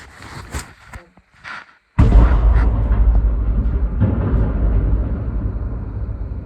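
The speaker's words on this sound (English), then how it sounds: "That was the sound of the engine jamming up." A sudden loud, grinding roar of a food truck engine jamming up cuts in after faint rustling and holds as a heavy rumbling, rattling mechanical noise close by.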